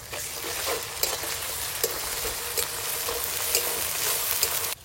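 Ginger garlic paste frying in a hot pan sizzles loudly and continuously up close, with occasional scraping stirs and small clinks, and no voices.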